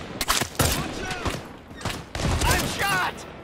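Gunfire in the shooter game Caliber, several loud bursts and sharp shots in quick clusters, with voices talking over the firefight.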